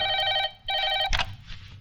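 A telephone rings in a scene from the 1999 Hindi film Sooryavansham, its bright trilling bell sounding in two loud bursts separated by a brief pause before a short thump, with no talk.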